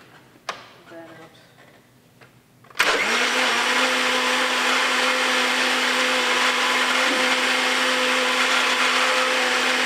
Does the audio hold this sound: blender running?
yes